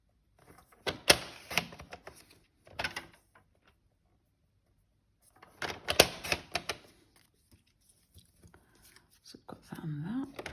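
Paper trimmer cutting card, with clustered clicking and scraping bursts separated by quiet gaps and a brief voice near the end.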